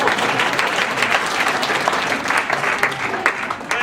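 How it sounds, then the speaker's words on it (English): Steady, dense applause from a library audience fills the room without pause, many hands clapping at once at an even, moderately loud level. "at that point you're supposed to clap"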